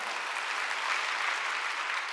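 A church congregation applauds in a dense, continuous wash of many hands, steady and fairly loud throughout.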